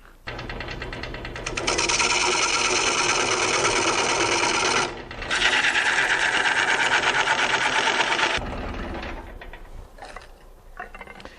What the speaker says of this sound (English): the next job is to run the chisel across the circumference of the disc to true it all up